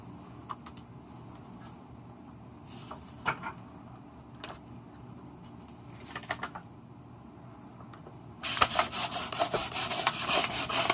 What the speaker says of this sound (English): You want to use a pretty fine grit sandpaper, especially when you're doing it for the first time.